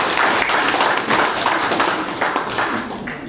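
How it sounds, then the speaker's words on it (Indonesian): Students in a classroom applauding, a dense burst of hand clapping that carries steadily for a few seconds before fading slightly, with no talking over it. "Ya, tepuk tangan."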